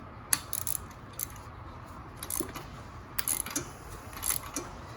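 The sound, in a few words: Craftsman ratchet tightening motorcycle spark plug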